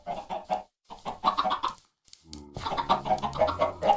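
Minecraft chickens cluck in short bursts, a few close calls with brief pauses between them, heard alone without talk.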